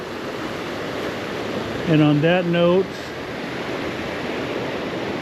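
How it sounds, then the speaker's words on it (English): Ocean surf washing onto the shore at Padre Island National Seashore after a hurricane, a steady broadband wash heard up close, with someone briefly talking over it midway. "I'll leave y'all with the water here"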